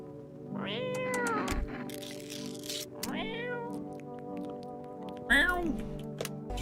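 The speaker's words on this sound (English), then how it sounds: "Kitty. Meow meow." A cat meows inside a video game, three drawn-out, rising-and-falling meows spaced a couple of seconds apart, clear and close over a quiet background.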